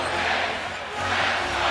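Basketball arena crowd during a Celtics–Knicks playoff game, a dense, steady roar of many voices swelling slightly toward the end, loud and continuous.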